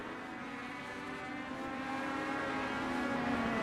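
Race car engines in an iRacing sim race at Knockhill Racing Circuit roar continuously at high revs, a steady loud whine that swells slightly toward the end.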